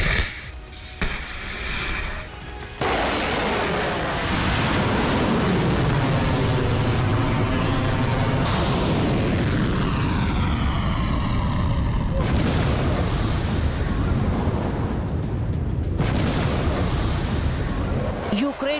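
Russian missile strikes and artillery fire hit Ukraine in wartime footage. Heavy booms and rumbling blasts come in abruptly cut segments, with whistling, sweeping tones between some of the explosions.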